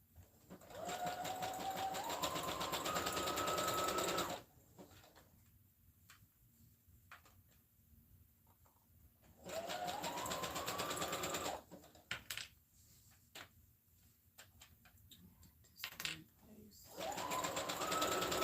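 A sewing machine runs a straight stitch on a satin hair bonnet in three separate bursts of rapid whirring, each several seconds long. Quieter pauses with faint handling noises fall between them.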